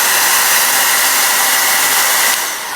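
A hairdryer blasts steadily and close on a painted metal-effect miniature, a loud continuous whooshing airflow that eases slightly at the end, with no voices.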